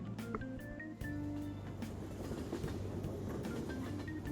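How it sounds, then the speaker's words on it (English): Train pulling into a station in the Persona 5 Royal video game, a steady rumbling rail roar with faint squeals and tones layered over it, continuous and fairly close. "Oh, the train is here."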